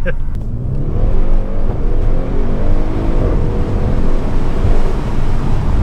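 Audi RS6 Performance (605PS) pulling hard out of a junction, a loud, continuous engine roar rising in pitch as it accelerates, with a voice speaking briefly at the start.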